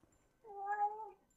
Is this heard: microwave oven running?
no